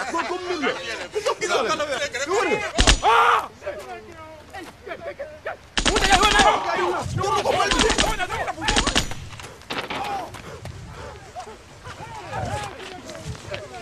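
An AK-47 fires bursts and single loud cracks outdoors among soldiers, several sharp shots echoing in clusters, with people talking and shouting in between and across the firing.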